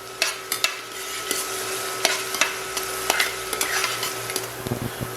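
Onions frying in a hot pan while cooking chicken wing sauce, a steady sizzle with repeated sharp scrapes and clinks of a utensil stirring them against the pan.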